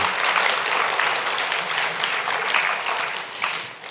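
Loud, dense applause from a church congregation at a Korean Sunday service, many hands clapping steadily for almost four seconds before easing off slightly at the end.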